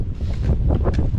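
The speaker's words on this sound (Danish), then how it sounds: "Det er minus 1 grader og blæser kraftigt." Strong wind at minus one degree buffets the microphone in cold mountains on the Norway–Sweden border, a loud, steady, low rumbling roar with gusty bursts throughout.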